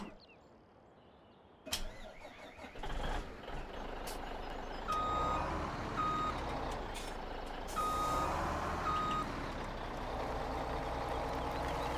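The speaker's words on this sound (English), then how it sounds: "a little Mack tipper truck." A heavy Mack tipper truck engine rumbles in Farming Simulator 17 while a reversing alarm beeps at a steady pace, with a hiss of air brakes as it backs up.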